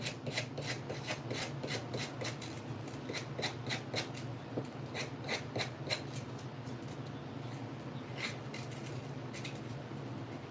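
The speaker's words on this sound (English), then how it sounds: "I'm just sanding off the edge." Sandpaper rubbing along the edge of an acrylic blank by hand, a quiet run of rapid, rhythmic scratching strokes in bursts with brief pauses.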